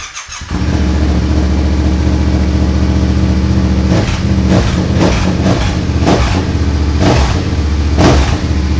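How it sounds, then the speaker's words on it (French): A Yamaha MT-07 motorcycle, rebuilt after an accident, starts up after a short whir and settles into a loud steady idle, then revs hard in several sharp bursts close by. "il n'y a plus qu'à appuyer sur le démarreur"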